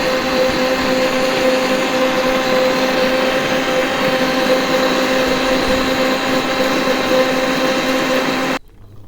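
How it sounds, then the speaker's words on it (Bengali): An electric blender whirs steadily at full speed while blending watermelon rinds, a loud, even motor drone with a hum that runs unbroken for about eight and a half seconds before cutting off abruptly. "ব্লেন্ডার করে হয়ে গেছে গা"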